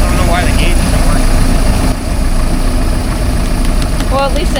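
Twin boat engines, each half of a Ford 460, rumble steadily at idle, a dense low drone filling the whole stretch, with faint higher clatter and brief squeaks riding on top.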